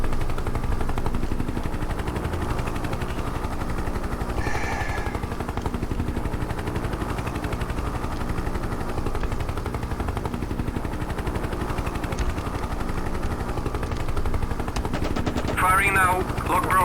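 A Hind helicopter gunship in a flying tank game fires its guns in a long continuous rattling stream over the steady drone of rotors and engine, loud and dense throughout, with a brief electronic beeping near the end.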